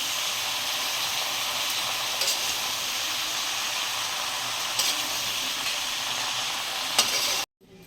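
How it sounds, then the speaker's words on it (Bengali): A fish head and Malabar spinach fry with turmeric in a pan while being stirred, giving a steady loud sizzle with a few scraping clicks that cuts off abruptly at the end. "এবার একটু নেড়ে নিতে হবে"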